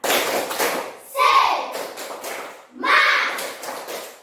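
Classroom children perform the 'tepuk semangat' clapping chant, with two loud bursts of clapping and chanting voices separated by a short pause, all close by.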